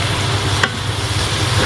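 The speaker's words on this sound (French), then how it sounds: "j'ajoute un fond d'eau" Water splashed into a hot pan of sticking spiced vegan meal-prep food, a steady sizzling hiss with a brief sharp burst as it hits, no talking.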